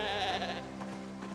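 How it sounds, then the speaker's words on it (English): A sheep in the zombie survival game Project Zomboid gives one loud, quavering bleat close by, heard alone with no talk. "I also hear like a sheep."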